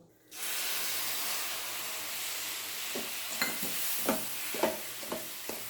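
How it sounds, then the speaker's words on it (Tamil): Milk poured into hot roasted rava in a pan gives a sudden steady hiss and sizzle that holds throughout, with scattered soft stirring scrapes and clinks over the bubbling. "ஒரு கப்பு பால் வந்து நம்ம சேர்த்துக்கலாம்"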